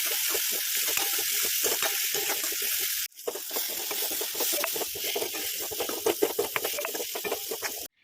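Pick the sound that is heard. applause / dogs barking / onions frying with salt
onions frying with salt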